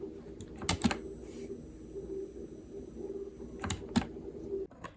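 Redragon K614 Anivia, a 60% ultra-thin wired mechanical keyboard with backlight off, typed on in sparse bursts of crisp key clicks, close and alone.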